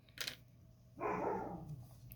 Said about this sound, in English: My dogs will stop barking eventually, I promise.